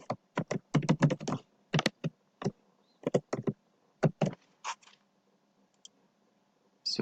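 Keys tapped on a computer keyboard, close and crisp, in quick irregular bursts of clicks with short gaps between them, ending in a few scattered taps in an otherwise quiet room.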